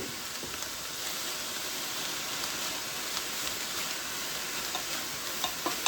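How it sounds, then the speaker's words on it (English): Sausage and garlic sautéing in a pan for a creamy pasta, a constant soft crackling sizzle with occasional small pops, quiet and unbroken by voices. "Now we're going to let this saute, not simmer, for about 5 or so minutes."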